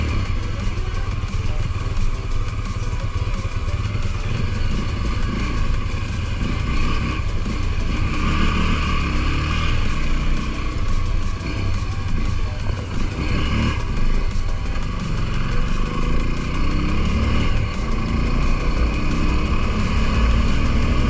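A Honda Twister motorcycle bored to 293cc, still being run in, rides through city streets on wet roads with its engine droning steadily and loudly and rising and falling gently with throttle.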